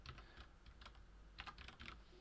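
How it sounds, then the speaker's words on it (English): Keys clatter on a computer keyboard in quick, uneven bursts of taps, faint and close, with no talking. "And I could type in a absolute path like this"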